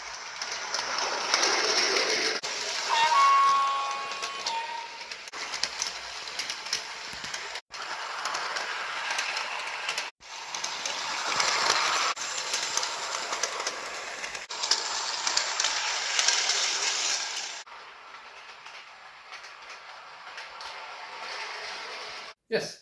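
A Hornby R9360M Playtrains Express high-speed toy electric train runs around its own track, a steady whirring motor hum with rattling wheels that swells and fades as it circles, broken by a few brief gaps.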